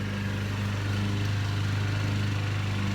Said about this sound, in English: classic lawnmower in the background.